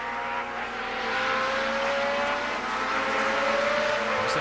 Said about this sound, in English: The McLaren M19 Cosworth was a fairly typical early 1970s Formula One design